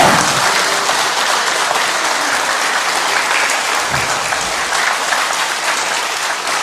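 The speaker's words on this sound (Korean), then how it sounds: "고생하신 후보님들께 다시 한번 격려의 박수 부탁드립니다" An audience at a Jindo county governor candidates' debate applauds the candidates at the close, a dense, steady wash of clapping, loud and sustained throughout with no pause.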